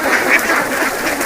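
A flock of ducks on a duck farm quacking loudly and continuously up close, with overlapping calls from several birds.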